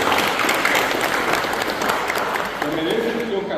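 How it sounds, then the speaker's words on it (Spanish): Students in a classroom or hall in Coronel Martínez, Guairá, clap together in sustained applause, dense and even, with a voice briefly rising under the clapping near the end. "quiero pedirle un aplauso a todos ustedes por estudiar ahora"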